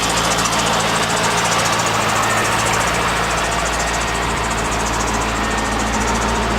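A C5 Corvette's engine idles with a steady low rumble and a constant vibrating drone, close and even throughout, with no voices over it.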